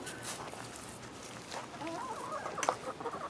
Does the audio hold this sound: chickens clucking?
yes